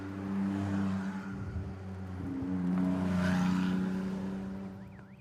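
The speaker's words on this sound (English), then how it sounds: "So the cars all making their way into the pit lane." Ferrari Challenge race cars on the Navarra circuit roll into the pit lane, a steady layered engine drone with low harmonics that swells and fades as cars pass, loud and continuous with no talk.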